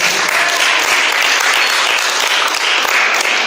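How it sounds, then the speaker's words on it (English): A church congregation applauds pastor Sarah before she leads communion, loud, dense and sustained clapping from many hands throughout. "Y'all give her a round of applause."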